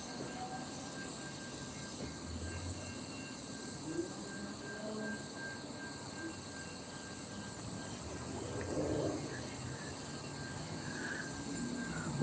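A steady hiss of air leaks from a loose air hose between railroad cars on a stopped train, a continuous faint whoosh under low rail-yard rumble and a thin high whine, with no voices.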